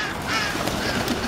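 Crows calling in a park, harsh caws over a steady outdoor background that also holds ducks and walking people, fairly close and loud.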